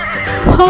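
A horse whinnies in a short rising call that swells louder toward the end, close and clear with no talk.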